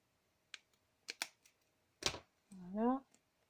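A few quick snipping clicks of small scissors cutting paper for card making, then a short burst of speech, all close and quiet.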